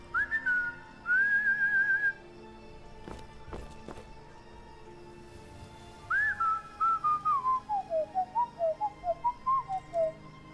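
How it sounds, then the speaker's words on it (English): A character whistles in Skyrim Special Edition: two short steady whistled notes, then after a pause with a few soft thumps, a longer run of falling, chirpy whistle notes in a quick rhythm, clear and close. "Whistle to Inigo."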